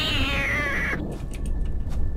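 A cat meows in the indie horror game Sinister Halloween, one long drawn-out wavering cry that cuts off abruptly, followed by faint scattered clicks and a quiet background hum.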